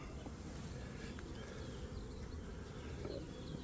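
Honey bees swarm around hive frames in a steady dense buzz, a constant low hum filling the whole stretch at moderate level, with no voices.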